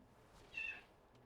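A cat gives a single short, faint meow midway through an otherwise very quiet indoor background.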